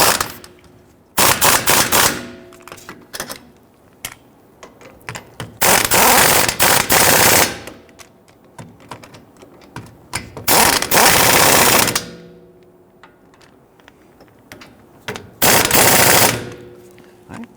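Impact wrench snugging down the rear brake hub bolts on a 2010-2019 Ford Taurus, loud close bursts of rapid hammering rattle in several separate runs of one to two seconds with quiet gaps between.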